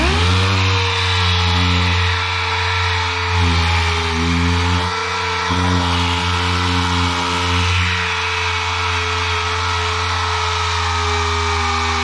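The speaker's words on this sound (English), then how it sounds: "I'm just going to get sanding." An electric power sander works steadily over a vintage surfboard, a loud continuous motor whine with stacked tonal hum and slight pitch dips as pressure shifts, running close and uninterrupted throughout.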